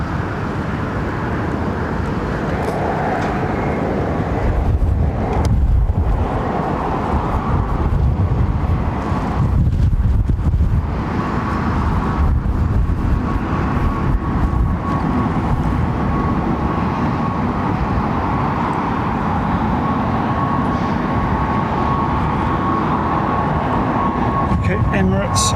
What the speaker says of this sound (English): Emirates 777, nice.